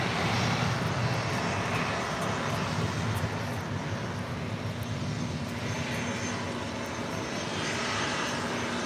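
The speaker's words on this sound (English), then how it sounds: "This is Alaska Airlines 1442 taking off to Zihuatanejo on a 737-800." An Alaska Airlines Boeing 737-800 takes off at LAX, a continuous jet engine roar with a steady low hum, fairly constant in loudness and somewhat distant.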